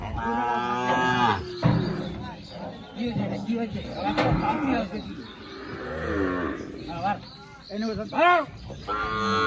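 Sahiwal bulls being loaded onto a truck moo repeatedly and loudly at close range, several long calls overlapping while people talk nearby.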